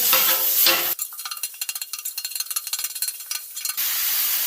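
Ground beef sizzles on a Blackstone flat-top griddle, a steady hiss broken by a stretch of quick scraping, tapping spatula strokes, close and loud with no talk.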